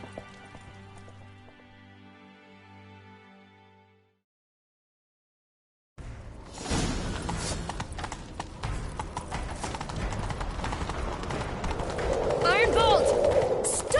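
Horse hooves clattering in a fast gallop in The Witcher 3, a dense rhythmic clip-clop that starts after a short silence and continues with rising intensity, joined by a game soundtrack and other effects.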